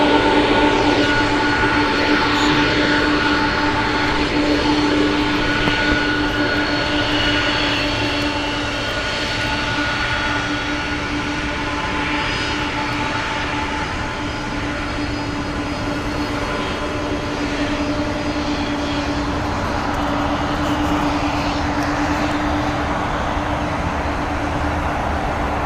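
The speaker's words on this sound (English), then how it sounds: "Going to be departing here on the south side is going to be United Airlines" A United Airlines jet departs from the south side at LAX, its steady engine roar and whine sustained and fairly loud across the whole stretch, with a persistent tonal hum and no voices.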